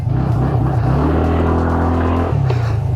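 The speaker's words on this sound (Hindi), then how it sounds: "सबसे पहले एंटॉक चलाते हैं एंड इमीडिएटली जो एग्जॉस्ट नोट है" A TVS Ntorq 125 scooter engine runs steadily close by, its exhaust note a throaty, continuous drone with a few pitch rises as the throttle is opened and eased, and no one speaking.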